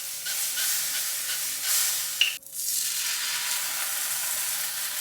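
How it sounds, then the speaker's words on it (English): Bacon sizzles in a frying pan with a steady, close broadband hiss and crackle that runs the whole time, broken by one brief sharp clatter midway. No voices. "let's get this bacon on"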